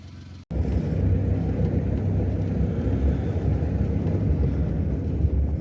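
Steady low car engine rumble from inside a vehicle on a ride from Katwachi to Karsog, loud and continuous after a brief cut near the start, with no talk.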